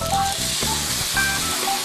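Sauce goes into a wok of frying shrimp with aromatics, setting off a loud, dense sizzle that holds steady for a couple of seconds and carries no speech.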